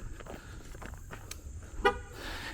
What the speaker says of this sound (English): The only thing I don't like about it is that it honks.